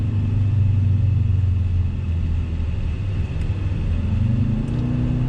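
A 2020 Jaguar F-Type Checkered Flag Edition, rear-wheel drive, shifts down through the gears in manual mode. The engine gives a low, steady rumble from inside the car, with a slight change in tone partway through and no speech.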